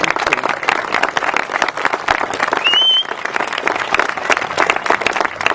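A crowd applauds steadily at an outdoor mural dedication, dense clapping sustained throughout with a brief whistle partway through.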